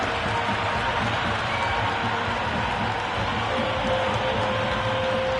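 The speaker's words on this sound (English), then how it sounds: "the crowd have joined the party. It's pretty noisy at the ground." Crowd at a cricket stadium during an India vs South Africa T20 match, a steady loud roar of cheering and noise filling the ground without a break.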